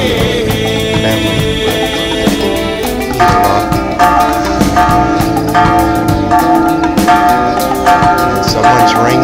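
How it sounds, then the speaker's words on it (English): Church bells ringing in Chapala, Mexico, in a continuous, layered morning peal, loud and resonant, with overlapping tolls sustaining throughout. "Someone's ringing the bells or at the church."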